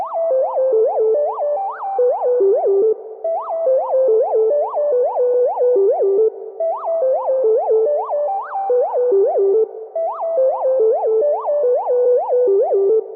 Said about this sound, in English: I went to OMNISPHERE and added some arpeggio preset here.